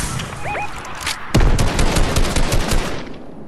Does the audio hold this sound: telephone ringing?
no